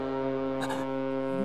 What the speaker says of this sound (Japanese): 今のって 船の音だ。